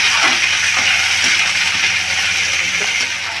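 Bell peppers stir-fried in a pan for veg masala momos give off a steady, loud sizzle with faint scraping and stirring noises, continuous throughout with no talking.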